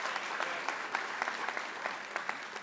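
A crowd at a 2023 MLK tribute applauds steadily, a dense wash of clapping with scattered louder individual claps, heard alone without talk.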